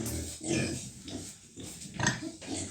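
A sow lying in a farm pen grunts and snorts in several short, low bursts at close range, with quiet moments between them.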